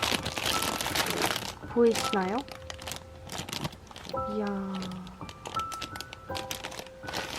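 Plastic packaging crinkles and rustles as a plush doll is unwrapped at close range, with bursts of crackling through the clip and someone talking over it.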